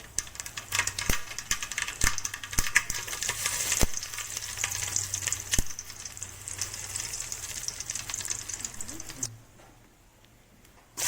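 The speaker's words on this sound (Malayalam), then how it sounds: "പ്രിപ്പയർ ചെയ്യുന്ന പാത്രത്തിൽ കുറച്ച് വെളിച്ചെണ്ണ ഒഴിച്ച് കടുകിട്ടിട്ട് അത് പൊട്ടിക്കാൻ വേണ്ടിയിട്ട് വെയിറ്റിംഗ് ആണ്" Mustard seeds crackle and pop in hot coconut oil, giving dense sizzling with sharp individual pops, close and fairly loud, before the frying abruptly quietens near the end.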